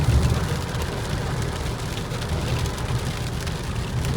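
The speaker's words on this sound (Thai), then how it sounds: "ฝนตกตลอดทางเลย" Steady rain pours while driving along a road in Thailand, a dense continuous hiss of drops on the car with a low rumble of the vehicle underneath, no voices.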